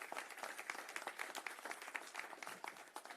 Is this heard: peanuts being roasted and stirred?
no